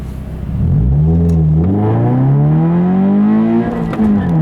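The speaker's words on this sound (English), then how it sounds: "See how I'm just flooring and just being really rough on the clutch" A manual Subaru BRZ accelerates hard at full throttle, its engine note climbing steadily in pitch through a gear, a brief dip at a shift, then rising again up close and loud.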